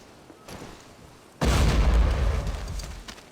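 A single loud explosion hits a target during basic training in the video game Hidden & Dangerous 2, a sudden heavy boom after a quiet lead-in, then a rumbling, slowly fading tail.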